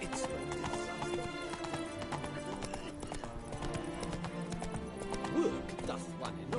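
Roach the horse gallops in The Witcher III, a continuous rhythmic clip-clop of hooves with a brief whinny near the end, heard under game music.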